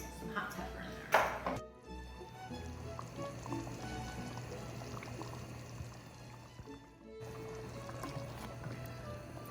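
Liquid is poured into a pasta pan of rigatoni sauce: after a brief clatter, a steady, soft pour runs for several seconds, fairly quiet and close, then cuts off, with a low background hum throughout.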